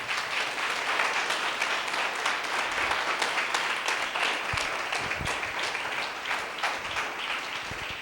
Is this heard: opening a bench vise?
no